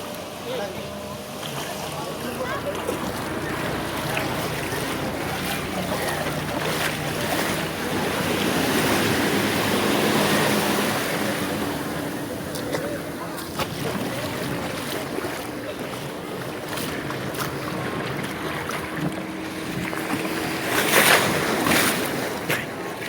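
Ocean waves at Malvan, Sindhudurg on the Konkan coast wash and surge in a steady roar, with people talking faintly underneath and a brief louder swell near the end.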